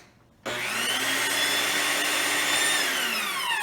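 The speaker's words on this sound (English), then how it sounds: "mix it in a blender" An electric blender that isn't working well kicks on abruptly after a brief quiet moment and whirs steadily as it mixes crepe batter of milk and eggs, a close, continuous motor whine with a slight dip in pitch near the end.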